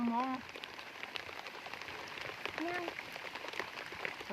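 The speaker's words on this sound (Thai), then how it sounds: "ฝนตก" Heavy rain pours through a forest in a steady, close wash of drops, with a voice speaking briefly in the opening moment and birds or other voices calling faintly over the downpour.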